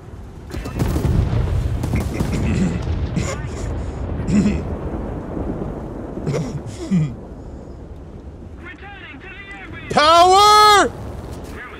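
Bombs dropped from a WW2 PB4Y-2 Privateer bomber exploding as a series of deep booms and rumbles, with people talking and shouting over them, then a rising whistling tone near the end.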